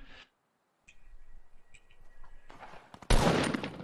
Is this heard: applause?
no